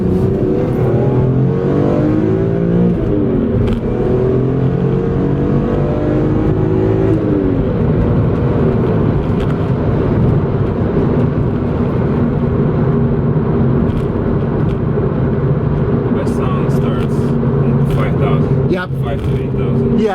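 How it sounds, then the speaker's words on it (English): A BMW E46 M3 with the high-revving S54 engine and six-speed manual revs and pulls hard, its exhaust note rising sharply early on before holding a steady loud drone, with people talking over it. "the whole purpose of this S54 engine is that high revving nature of it"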